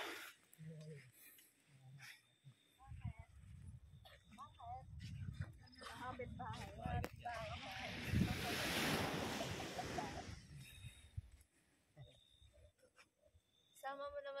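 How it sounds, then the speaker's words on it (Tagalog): Sea waves wash onto the shore at an island beach campsite, a steady rushing surge that swells and fades under wind noise while people talk nearby. "Dagat."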